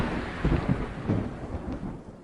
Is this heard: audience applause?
no